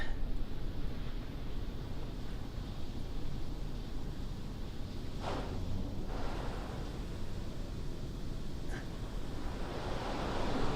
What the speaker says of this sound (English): GoPro's getting a coating of hot wax